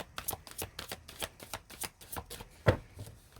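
Tarot cards being shuffled by hand, a rapid run of crisp riffling flicks and soft slaps, close and moderately loud, with one sharper knock near the end and no voices.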